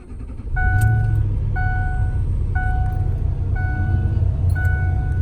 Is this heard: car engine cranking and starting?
yes